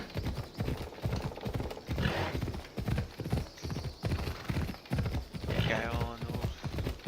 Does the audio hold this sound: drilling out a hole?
no